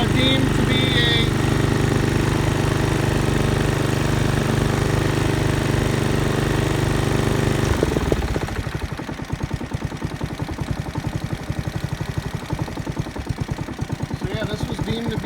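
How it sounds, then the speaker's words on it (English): A Honda HRX217 walk-behind lawn mower with a GCV200 engine, once seized, runs loud and steady close by, its drone holding even before shifting to a rougher, choppier idle partway through. "this was deemed to be a landfill mower, and as you can see, it runs perfectly fine"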